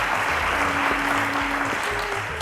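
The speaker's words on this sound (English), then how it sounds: "A round of applause to Glory," A studio audience on the Cowbellpedia TV quiz show applauds in a steady, dense wash of clapping that holds evenly for a couple of seconds, with a faint tonal hum underneath.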